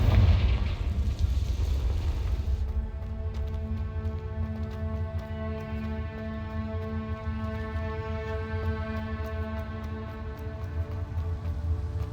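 A Confringo spell blast in Hogwarts Legacy opens with a loud booming explosion that fades into a rumbling tail, then gives way to steady game music.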